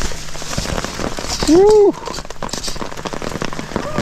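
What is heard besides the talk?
rain pouring down while fishing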